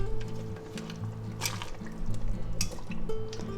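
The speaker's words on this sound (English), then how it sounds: "add our vegetables in there. We can just dump them right in there real gradually like" Chunks of potato, carrot and celery tumble into a pot roast pot in several clattering, wet bursts, with a low musical bed running underneath and no talking.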